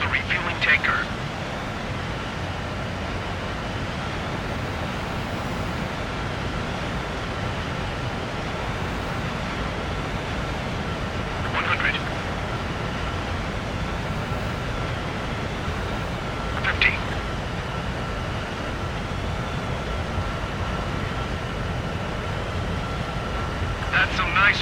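A steady, broad jet-engine roar from a fighter approaching an aerial refueling tanker in the combat flight game Ace Combat 7, holding even throughout with a few short bright blips at intervals.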